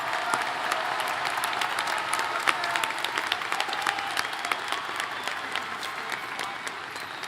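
Steady, dense applause from a commencement ceremony crowd honoring workers and volunteers, sustained and even throughout with no voices over it.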